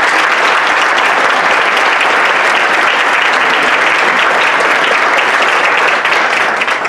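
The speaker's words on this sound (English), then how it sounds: "So let's give a round of applause for our" Loud, sustained applause from a crowd at a 40th anniversary breakfast, dense steady clapping filling the room without a break.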